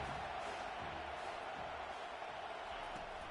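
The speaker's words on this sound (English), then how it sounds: "this crowd is tearing the lid off this place" A stadium crowd in the College Football 25 video game roars in a dense, constant wall of cheering that holds steady throughout, with no distinct pauses.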